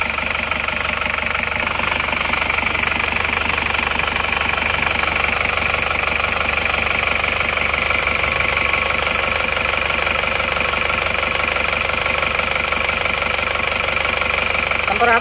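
An Isuzu Panther diesel engine idles steadily, its rough knocking clatter constant and close for the whole stretch, with no talk over it.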